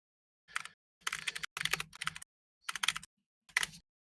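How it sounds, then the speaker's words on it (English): Quick bursts of computer keyboard typing, close up, in several short clusters separated by brief pauses. "I can hear the typing."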